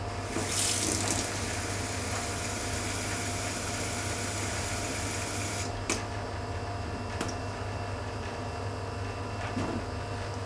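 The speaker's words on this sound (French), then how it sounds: "on la remplit d'eau" Water running steadily from a kitchen tap into a small bottle, a constant hiss and splash with a brief louder gush at the start and a few faint clicks later, no talking.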